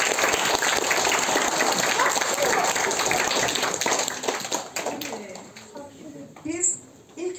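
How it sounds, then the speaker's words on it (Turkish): Audience at a school Nowruz event applauding a teacher: loud, dense clapping for about four seconds, then fading out as voices and chatter take over. "Hocamıza bir alkış, moral alkış."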